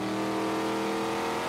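Trans Am race cars at Sonoma Raceway power through turn 10, a loud, sustained engine roar held at high revs for a brief moment with no voices.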